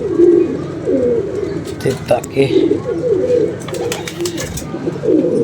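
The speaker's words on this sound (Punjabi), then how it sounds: "ਇਹ ਕਾਲਾ ਕਬੂਤਰ ਇਹਦੇ ਪਿੱਛੇ ਹੀ ਲਗਾ ਆ ਰਿਹਾ" Pigeons cooing in a loft where a flock is kept, with soft repeated low coos and fluttering throughout and someone talking over them.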